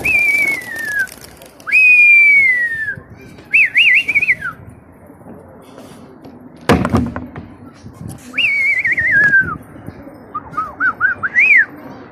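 Pigeons on an old rooftop at sunset give a series of clear, drawn-out whistled calls that slide downward, in separate bursts with short gaps, and one sharp knock midway.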